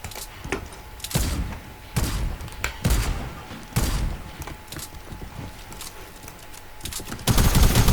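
Weapon fire in a zone-wars battle royale video game cracks out in sharp, separate bursts of shots spaced a second or so apart, with a louder, denser burst at the end.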